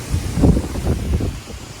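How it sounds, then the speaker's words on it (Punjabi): Strong wind gusting across a maize field on a farm, a steady broadband rush with low rumbling buffets against the microphone, rising and falling in waves throughout with no voices. "ਦੇਖੋ ਬਹੁਤ ਜ਼ਿਆਦਾ ਹਵਾ ਚੱਲ ਪਈ ਆ"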